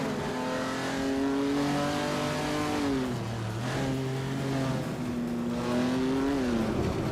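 A 1959 Maserati Tipo 61 Birdcage race car engine in a racing video game drones loudly and steadily, its pitch climbing and dropping through gear changes with a dip in revs midway.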